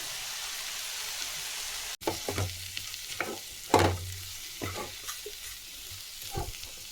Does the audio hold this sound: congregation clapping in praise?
no